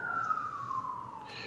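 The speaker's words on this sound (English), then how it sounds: "Can you hear sirens?" Emergency vehicle siren heard at a distance, one steady wailing tone gradually falling in pitch, faint against a quiet outdoor background.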